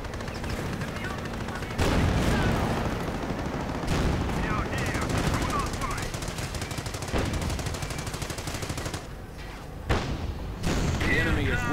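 Heavy gunfire with machine-gun bursts and booming mortar explosions from a war strategy video game, rattling continuously across the clip with sharper blasts near the end, while a voice talks over much of it.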